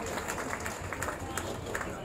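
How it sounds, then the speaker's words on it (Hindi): Crowd applause for Dr. Devendra Balara at a farmers' gathering at Khatkar toll plaza: a dense, steady wash of many hands clapping, fairly loud and continuous throughout. "जोरदार तालियां डॉक्टर देवेंद्र बलारा जी के लिए।"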